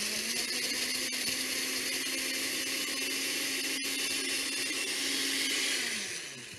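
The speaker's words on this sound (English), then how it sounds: "guava cubes are in there, inside the blender" A blender full of guava cubes whirs at a steady high pitch for several seconds, loud and close, then winds down as it is switched off.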